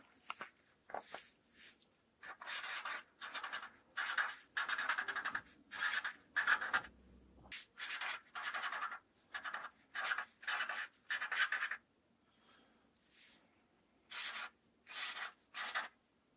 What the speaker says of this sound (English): Let's go ahead and write that down.